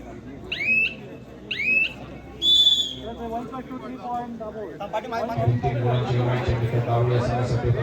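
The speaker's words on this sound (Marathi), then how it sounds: "आणि दरम्यान शिट्टी वाजते. सामना संपतो" A referee's whistle at a kabaddi semi-final in a village festival gives two short shrill blasts and a longer third blast close by, followed by crowd chatter and a commentator talking over the noise.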